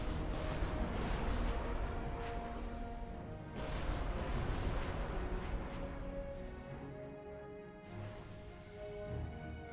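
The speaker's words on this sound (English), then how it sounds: "it's gonna be another explosion" Booming explosions and artillery-like blasts from the Supreme Commander real-time strategy game, UEF campaign, repeated heavy rumbling bursts layered over a constant loud battle roar, with no speech.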